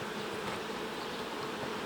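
Honeybees hum in an opened Ukrainian-Alpine hive while the brood nest is inspected: a dense, steady, close swarm buzz with no break, loud and continuous throughout, with no voices.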